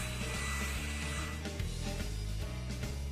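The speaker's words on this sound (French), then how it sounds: "Sèche la colle à l'aide d'un sèche-cheveux jusqu'à ce qu'un film apparaisse." A hair dryer blows steadily and loudly, drying a coat of white glue brushed over a painted cardboard house; a continuous whooshing roar with no voices.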